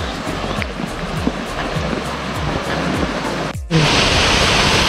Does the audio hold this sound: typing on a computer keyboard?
no